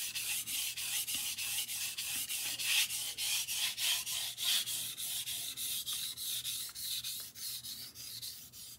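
Knife blade being sharpened on a sharpening stone with even pressure along the bevel, a rhythmic series of quick rasping strokes, about three per second, close and clear with no talk.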